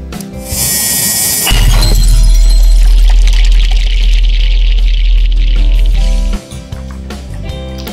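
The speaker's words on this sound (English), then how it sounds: "I just pop in milk right in there." Milk pours steadily into a bowl of garri, a loud, close, continuous liquid rush lasting several seconds before stopping abruptly.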